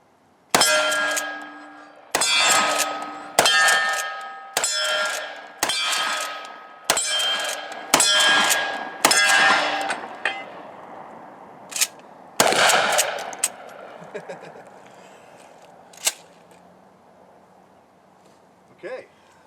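A Mossberg Shockwave shotgun fires from the hip outdoors, a rapid string of about nine loud, sharp blasts with ringing metallic echoes, then a pause and a couple of final shots fading into quiet.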